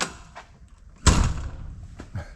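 The heavy door of a 1987 Peterbilt 379 truck shuts with a single solid thud partway through, followed by faint rustling and a softer knock.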